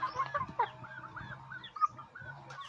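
Young chickens, adolescent birds near fighting-cock age, cluck and call in a busy, overlapping chorus of short squawks and chirps, close by and moderately loud with no talk over them.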